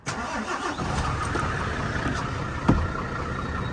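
A lorry engine cranks and catches, then settles into a steady, rumbling idle close by, with a sharp knock partway through.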